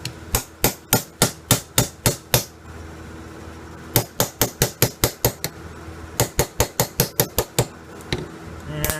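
Hammer strikes punching a part out of a car ignition switch clamped in a vise, sharp metallic taps in quick rhythmic bursts of about eight to ten blows each, with short pauses between groups, close and loud.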